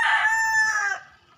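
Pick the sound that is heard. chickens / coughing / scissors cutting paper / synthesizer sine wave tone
chickens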